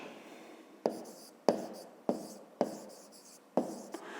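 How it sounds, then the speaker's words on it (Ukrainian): Handwriting during a fifth-grade maths lesson: pen or chalk strokes land in five or six sharp taps with scratchy tails, spaced roughly half a second apart, close and fairly quiet, with no talking. "Ну, а тепер записуємо відповідь"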